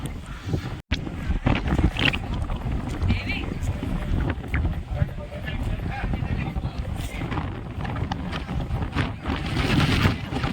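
Strong wind gusts buffet the microphone on a hilltop at Nandi Hills, a rough, continuous roar with sharp bumps, while people talk over it.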